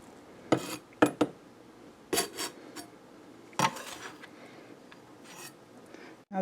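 A knife cuts a stuffed cheesesteak sandwich with portabella mushrooms in half, giving several short, crisp crunching scrapes spaced apart, close and fairly quiet, with no talking.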